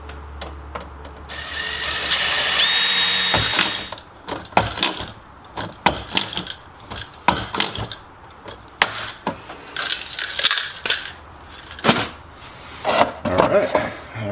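A power drill bores holes in a metal fan shroud for a brushless dual-fan setup on an LS-swapped Nissan 350Z. One sustained whining burst comes early, followed by scattered clanks and handling knocks.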